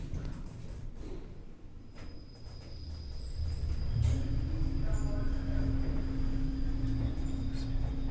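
A modernized Kone lift in a shopping centre descends with a low, steady mechanical rumble that builds and grows louder partway through, a faint high whine running above it.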